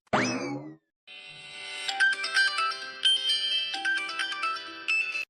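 A cartoon phone ringtone plays: a quick boing-like rising chirp, a short pause, then a bright electronic melodic ring tune repeating in clear, clean tones.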